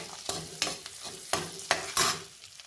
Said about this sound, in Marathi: तर आता मी घालते गाजर हे पण थोडंसं परतून घेऊया